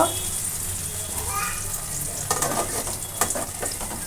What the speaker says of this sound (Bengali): পেঁয়াজ টমেটোটা ভাজা ভাজা হয়ে গেছে এবার আমি মশলাটা দেব